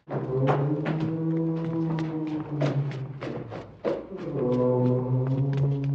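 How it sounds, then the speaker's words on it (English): A low, droning foghorn-like tone swells under scattered thuds and taps, creating an eerie, spooky atmosphere. "That's just my haunted house atmosphere tape."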